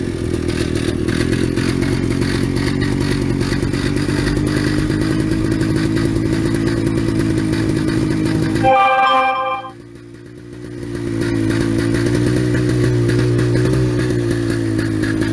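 A 1961 Harley-Davidson Topper scooter engine runs steadily and loudly up close, cutting out abruptly partway through before the running sound resumes; nobody talks.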